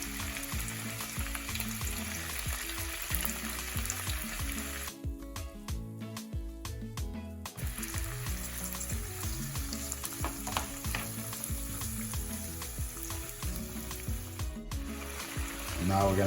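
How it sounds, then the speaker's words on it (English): Black beans frying in a pot for Haitian black bean rice, a continuous close crackling sizzle with occasional stirring and scraping, one short quieter gap in the middle, no voices. "You wanna fry the beans."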